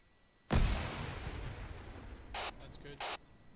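A single loud grenade blast during a combat engagement, a sharp boom that rumbles away, followed by two brief bursts of crackling radio noise.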